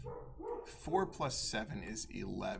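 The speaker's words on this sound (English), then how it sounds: "She's barking at something." A dog named Zena barks a few times in the background, faint and distant beneath someone talking steadily through simple arithmetic sums.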